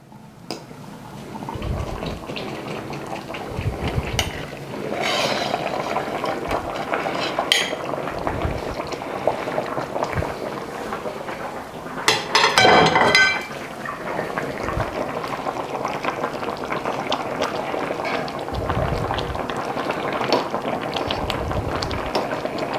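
A pot of Armenian fasting dolma simmers on the stove, a steady bubbling boil with light clinks of lid or utensils and a brief louder clatter partway through, no voices.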